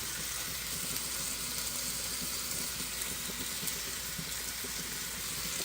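Eggs and bacon fry together in a pan, giving a steady, dense crackling sizzle that holds evenly throughout with no voices over it.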